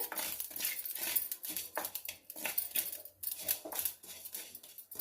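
Fenugreek seeds for mango pickle crackle as they fry in a pan, giving a steady, fairly faint run of small pops and sizzles with no talking.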